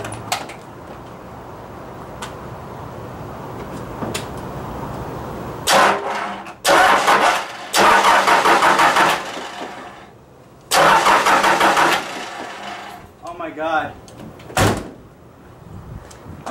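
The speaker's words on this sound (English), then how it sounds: "Let's see if it'll crank." A Cummins diesel engine swapped into a Ford F150 cranks in several loud bursts, each broad and rough, then catches with a brief uneven sputter before dropping back toward quieter noise, close by with no talking.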